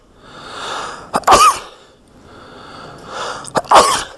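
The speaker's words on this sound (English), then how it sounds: "I've got to sneeze." Two sneezes, each with a sharp intake of breath before an explosive burst, about two seconds apart, close and loud.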